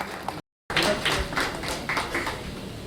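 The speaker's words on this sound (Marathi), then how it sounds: "त्यांचं आपल्या भावकीतर्फे आपण मनपूर्वक जोरदार टाळ्या वाजवून स्वागत करीत आहोत" A crowd claps to welcome a guest at a temple renovation ceremony: a steady patter of many hands, fairly close and moderately loud, starting after a brief gap and continuing to the end.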